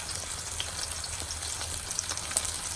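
A bone-in Japanese Wagyu ribeye steak, coated in salt and pepper, sears in a hot pan with a continuous loud sizzle and scattered crackling spits of fat, close up and unbroken.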